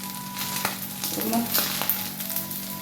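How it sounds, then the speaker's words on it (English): Fried rice sizzles and crackles steadily in a large hot pan, with occasional scraping stirs, close and fairly loud. "I'm frying up the ingredients and the fried rice and the rice together."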